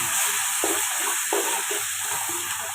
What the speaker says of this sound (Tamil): லைட்டாக தக்காளி வதங்கினோன்னா இஞ்சி பூண்டு பேஸ்ட்டு போட்டுக்கலாம்